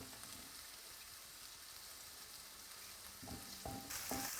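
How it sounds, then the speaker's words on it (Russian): Potatoes frying in a pan give a steady, close sizzle, with short stirring scrapes and clatter near the end. The sizzle grows slightly louder as the stirring picks up. "Снова перемешиваю"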